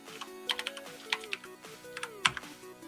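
Fast, uneven typing on a computer keyboard, close and fairly quiet, with a faint tonal hum underneath and no speech.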